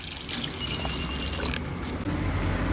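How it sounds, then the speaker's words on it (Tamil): Water pours steadily into a pot of dried fish curry (karuvattu kulambu) made with tamarind, a continuous splashing trickle that runs close and fairly loud throughout, with no voices. "கருவாட்டு குழம்புக்கு தேவையான தண்ணி சேர்த்துக்கிடுவோம்."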